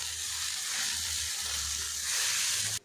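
Papaya pieces stir-fried in a pan with powdered spices, salt and a little sugar give a steady, close sizzle with soft scraping of stirring throughout, ending abruptly.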